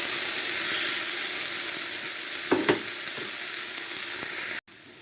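Garlic and tomato sauté in hot cooking oil for pork liver igado, with a steady loud sizzle and frying hiss, broken by a couple of soft stirring clinks.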